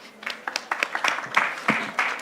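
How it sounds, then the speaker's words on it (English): Light, scattered clapping from a small audience at a startup pitch event, fairly faint and brief, with a murmur of voices underneath. "A very, very big applause, please."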